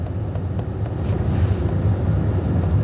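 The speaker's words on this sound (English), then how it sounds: "We out here working, the wind blowing." Wind blowing outdoors straight into the microphone, a loud, continuous low rumble with buffeting gusts, close and unbroken for the whole moment.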